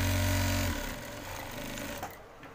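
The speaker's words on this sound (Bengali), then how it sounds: "এটাকে একটু সেলাইটা দিয়ে টাক দিয়ে রাখি" Sewing machine running a tack stitch along the back panel of boys' pajamas, a loud steady mechanical whir for under a second that then drops to a softer hum and light handling noise.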